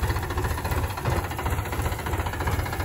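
A heavy vehicle's engine runs with a steady low rumble and a slight knocking throb, loud and close, as the driver engages second gear, with no talk over it.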